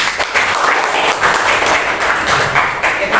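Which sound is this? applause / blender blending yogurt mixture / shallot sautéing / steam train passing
applause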